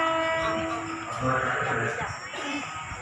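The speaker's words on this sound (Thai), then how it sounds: "เปิดวีดเตือนคนที่กำลังจะข้ามทางรถไฟนะครับ" Local train 408 from Chiang Mai to Nakhon Sawan pulls into a station, a warning whistle sounding over the steady rumble of the cars amid busy platform chatter and voices nearby.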